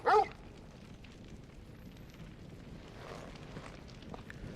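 A single short dog bark or yelp from a video game opens the moment, followed by quiet ambient background with no further calls.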